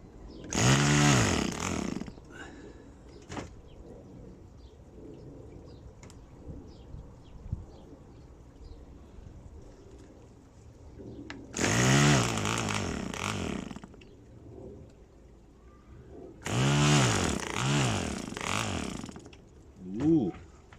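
A PAW model engine with the throttle shut fires in three separate bursts of a few seconds each, a buzzing, harmonic drone that starts and dies out, with quiet gaps and faint clicks between runs.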